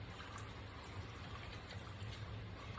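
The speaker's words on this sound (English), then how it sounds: "And you're just going to pour that on top." Liquid is poured on top of ingredients in a crockpot for chicken and dumplings, giving a soft, steady trickling stream that runs continuously and quietly, without talk.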